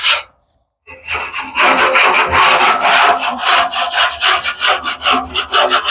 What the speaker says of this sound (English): So basically what I do is I just scrape all the sides, let it fall to the bottom